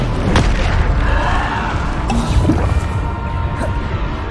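Booming Bombarda blasts and magic impacts ring out during Hogwarts Legacy combat, heavy low thuds and crackling bursts over a dense, loud game soundscape with no speech audible.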